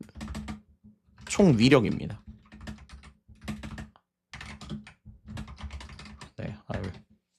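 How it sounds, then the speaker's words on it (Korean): Rapid clicking of keys on a computer keyboard that sits out of its normal position, in uneven bursts at close range, with a voice briefly talking over the typing. "키보드가 정상 위치에 없어서 좀 치기가 힘드네요."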